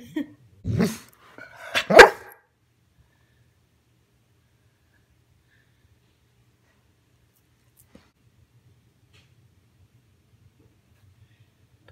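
A dog barks close up in a quiet room, two or three sharp loud barks with a short yip in the first two seconds, then near silence with only a faint tap later.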